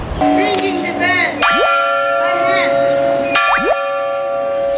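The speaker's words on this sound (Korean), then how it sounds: "정오를 알리는 대성당의 종이 울리자 마을의 크고 작은 종들이 일제히 아름다운 화음을 이루며 퍼져나갑니다." Cathedral bells ringing noon in a Maltese village, bright bell strikes overlapping in clustered peals, loud and resonant with sliding tones between, no speech.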